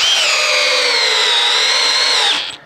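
A Milwaukee M12 Gen 3 Fuel hammer drill drives a 5 inch lag, giving a loud, steady, high-pitched motor whine close up that holds and then winds down at the end.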